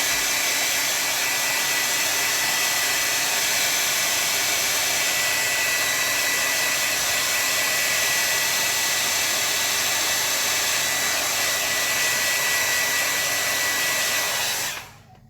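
A hair dryer blows on gouache paint, a loud, steady whooshing roar that runs unbroken and cuts off abruptly at the very end.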